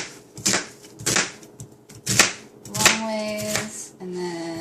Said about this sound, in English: cut your onion first, because that's the best thing to cut on your cutting board first